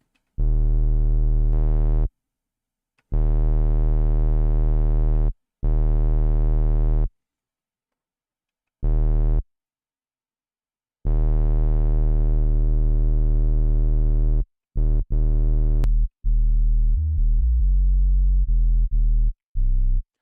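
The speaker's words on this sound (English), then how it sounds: "this is what I would call a functional bass or 808" Deep, droning 808 synth bass notes with drive sustained in long bursts separated by silences, ending with a run of shorter, choppier notes; loud and alone.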